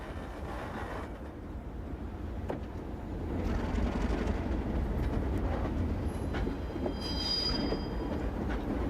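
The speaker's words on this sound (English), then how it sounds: "Two of their former Norfolk and Western Alcos arrive at the Norfolk Southern interchange near Danville," Former Norfolk and Western Alco diesel locomotives rumble in from a distance to the Norfolk Southern interchange near Danville, Illinois, engine drone growing louder with occasional wheel squeals and clanks, no talking.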